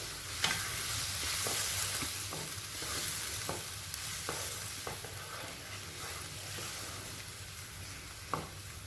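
Chicken tongseng frying in a pan, a steady soft sizzle with repeated light scrapes and taps of stirring, close and fairly quiet, with no voices.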